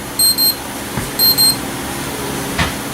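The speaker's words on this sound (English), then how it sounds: "It's my alarm that goes off every day of the week at 8 a.m." A daily alarm clock beeps twice in quick pairs, then repeats a second double beep, over a steady room hum with a faint thump.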